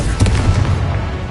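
A Confringo spell blast in Hogwarts Legacy bursts close and loud, a short booming thud with crackling tail that fades within about a second, with no talk.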